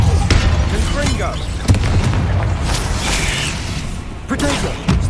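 A Confringo fire spell blasts in Hogwarts Legacy, giving a booming burst over a dense game mix, with further thuds and a sharp pop near the end while a player calls out spells.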